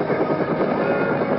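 Helicopter in Left 4 Dead 2 thrums steadily with a continuous rotor and engine drone, loud and constant, alone without speech.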